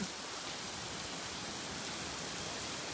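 Steady rain falls on a stormy, typhoon-like weekend, heard as an even, soft hiss that stays constant throughout with no voices.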